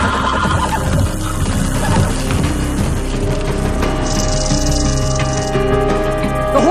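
A horse whinnies loudly and close in a dramatic outdoor scene, its shrill neigh rising over a dense bed of background music and hoof noise.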